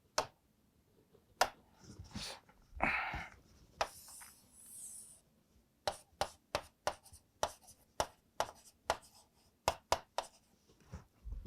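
Marker or chalk strokes on a classroom board during a lecture, a series of sharp, fairly close taps and scratches in an irregular rhythm, with a brief rustle and a faint voice earlier on.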